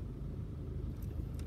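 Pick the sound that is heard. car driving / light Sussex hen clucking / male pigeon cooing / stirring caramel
car driving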